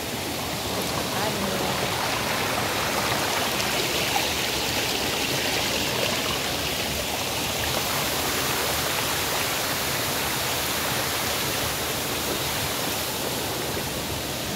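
Wisik Falls in Aurora roars steadily, with a clear river rushing in a dense, continuous wash of water noise and no pauses.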